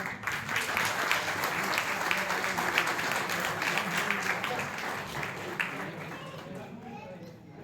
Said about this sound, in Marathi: त्यांचं एकदा जोरदार टाळ्या.